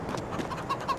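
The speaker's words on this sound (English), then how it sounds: "Why is there still chickens in here?" Short, soft chicken clucks in Farming Simulator 22, a few quick calls over a faint digital background, with no talking.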